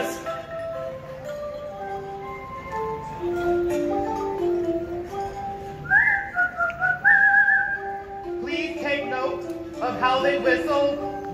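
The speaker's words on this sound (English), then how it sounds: "How they whistle while they work." Barbershop quartet singers at Magic Kingdom's Main Street train station whistle a melodic tune in clear sustained notes. Sung harmonies and voices come before and after the whistling.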